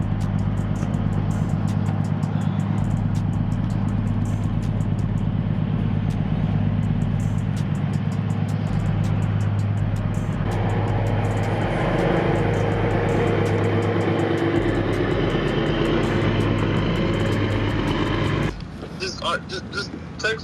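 A BMW E46 car drives along with a steady low engine and road rumble plus wind noise for most of the stretch, then the drone cuts off near the end.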